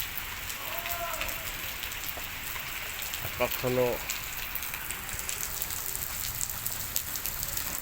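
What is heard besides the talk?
light afternoon rain falling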